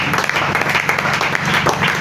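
A church congregation applauds and cheers together during a French-language Bible teaching on the local church, a dense, steady wash of clapping with a low hum beneath.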